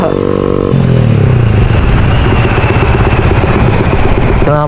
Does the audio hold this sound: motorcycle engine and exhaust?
yes